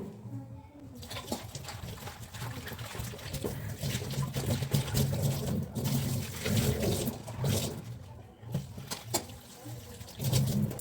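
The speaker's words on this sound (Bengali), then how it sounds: "এই জলটাও আমি ফেলে দেবো দিয়ে আরেকবার আমি এটাকে ধুয়ে নেব" Cauliflower leaves are rinsed in a vessel as water is poured, swished and dribbled in uneven bursts of splashing and trickling, close and moderately loud, with occasional handling knocks.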